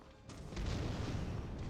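Explosion in the Skyrim game, a deep booming blast that swells after a quiet start and rolls on as a loud, sustained rumble.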